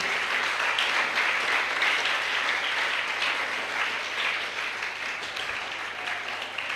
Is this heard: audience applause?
yes